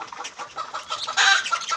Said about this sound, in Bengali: পাখিগুলো কি ভালো খাচ্ছে